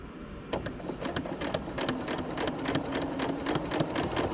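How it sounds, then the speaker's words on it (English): A pedal-driven sewing machine stitches fabric in an art studio, running steadily at moderate speed with a dense, rapid mechanical rattle and regular needle clicks, close and clear, with no talking. "you get your machine to start stitching, is you use your pedal"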